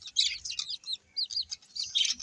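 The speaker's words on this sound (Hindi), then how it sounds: "अब इसके बाद बाबा हमारे लिए दो चूजे के बच्चे लेके आए हैं" Two baby chicken chicks chirping close by, a run of high, thin peeps in quick irregular bursts with short gaps between them.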